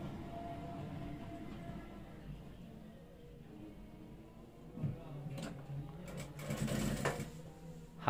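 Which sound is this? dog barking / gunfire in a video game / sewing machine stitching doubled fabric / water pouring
sewing machine stitching doubled fabric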